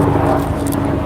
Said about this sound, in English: That's a wonderful helicopter up there.